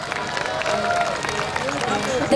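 Sustained applause from an outdoor crowd at a busking audition festival during Namwon's Chunhyang festival, a steady broadband wash of clapping with crowd murmur and a few faint tonal sounds underneath.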